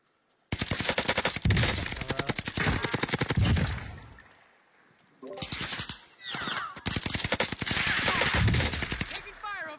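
Dense, loud automatic gunfire in a video game, rapid bursts lasting several seconds, a brief lull with scattered shots, then heavy continuous firing resumes, mixed with faint voices.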